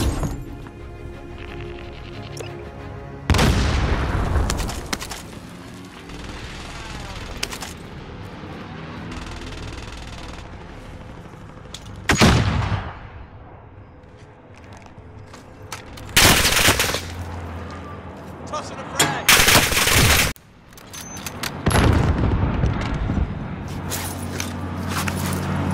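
Grenades explode amid gunfire in the Call of Duty: Modern Warfare video game, with several loud, separate blasts and crashes spaced across the stretch, bursts of machine-gun fire, and quieter shooting and movement between them.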